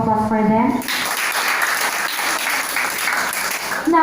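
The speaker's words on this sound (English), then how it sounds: "A round of applause for them." Audience applause for debate judges at a school debate event, a steady wash of many hands clapping through most of the stretch, with a voice talking briefly at the start and end.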